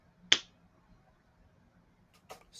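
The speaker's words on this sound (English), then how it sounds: "could you snap your fingers?" A single crisp finger snap cracks out close and clear against near silence, followed a couple of seconds later by fainter rustling or clicking sounds.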